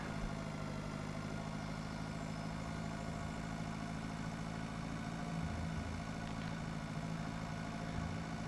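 A Landini light tractor engine idles in the farming simulation game Pure Farming 2018, giving a steady, unchanging low rumble that runs the full length without talk.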